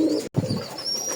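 A male Rajgolla pigeon gives a short, low coo, cut by a brief gap, then a softer continuing murmur, close and alone without voices.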